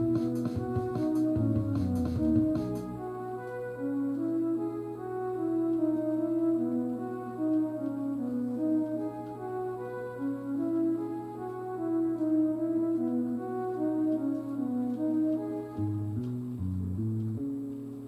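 Song playback in Soundtrap with a looped synth track over a steady, sustained bass line, playing continuously at an even level, with a brief busier passage near the start and near the end.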